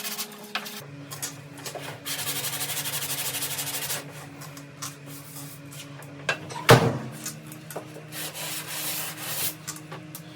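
Steady abrasive rubbing of sandpaper smoothing body filler over a rust-repair patch on a car's rocker panel, continuous for several seconds, then a brief clunk and scattered handling noises.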